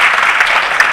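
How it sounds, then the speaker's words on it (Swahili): A crowd gives loud, dense applause in honor of a church, a steady wash of clapping filling the whole moment. "Makofi kwa kanisa hili."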